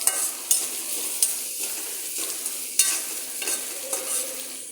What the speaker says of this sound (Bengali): এটা হচ্ছে লাউয়ের চুচা আর আলু আমরা ভাজি করে দেখাবো আপনাদেরকে।